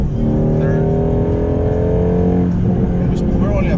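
A Shelby GT350 engine pulls hard at speed around 5,000 RPM, a loud close droning roar with a steady tone that fades and shifts near the end as the throttle eases.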